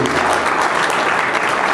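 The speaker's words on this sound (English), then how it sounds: "You gotta give yourself a round of applause." A crowd at a Floyd Mayweather boxing event breaks into loud, steady applause, thick and continuous throughout with no voices rising above it.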